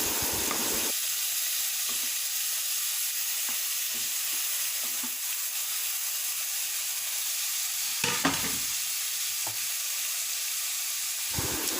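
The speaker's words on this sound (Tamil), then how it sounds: "போட்டு அது கூட கொஞ்சம் மஞ்சள் பொடியும் போட்டு நல்லா கிளறி விடணும்" Spices, turmeric, onion, garlic and ginger are stirred in a sizzling pan for a mutton bone soup, a steady fry hiss broken by a few scraping stirs, loud and close throughout.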